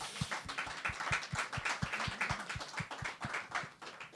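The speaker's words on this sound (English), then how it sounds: "maybe we can give everyone one last round of applause" Conference audience applause with sparse, rhythmic claps from a small group, fairly close and moderately quiet, lasting several seconds with no speech.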